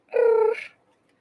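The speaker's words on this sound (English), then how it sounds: "He's such a vocal kitty." A single short, tonal meow from a Turkish Van cat, close and clear, rising slightly at the end before fading out.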